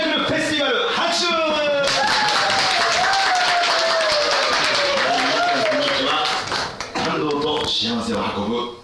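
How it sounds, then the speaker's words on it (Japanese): Audience applause at a Japanese magic and entertainment festival event, loud sustained clapping from a crowd with a voice calling out over it throughout. "拍手お願いします。"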